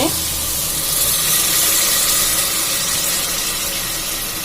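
Coconut milk and water pour into a pot of rice for veg pulau, a loud, steady rushing hiss of liquid running continuously up close.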